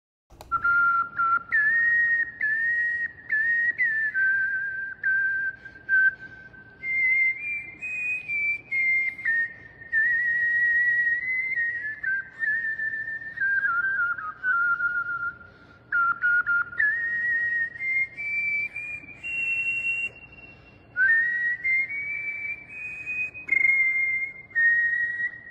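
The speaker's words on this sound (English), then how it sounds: "Here's someone who's whistling." Someone whistles the Star Spangled Banner alone, a clear, close melody of sustained phrases with short breaths between them that carries on for the full twenty-five seconds.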